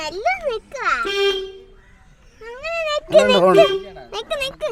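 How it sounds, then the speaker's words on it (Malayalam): An Ambassador car's horn sounds in two short steady honks, with excited voices talking before, between and after. "ഹോൺ അടിച്ചോ"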